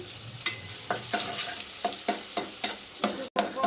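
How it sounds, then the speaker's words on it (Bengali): Chopped onions frying in a little oil in a pan sizzle steadily while a utensil scrapes and stirs them in a regular rhythm of sharp strokes, close and clear, with one brief dropout near the end. "পেনে একটু তেল দিয়ে দিলাম পেঁয়াজ কুচি দিয়ে দিছি"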